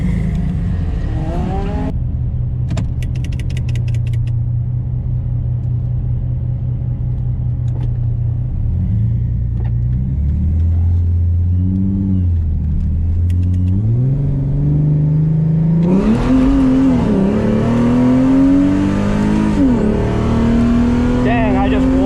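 Mercedes SLK32 AMG accelerates from a 20 mph roll race at Orlando Cars and Coffee, engine note climbing steadily through gears from a low drone to a loud, rising rev, with some voices under it early on.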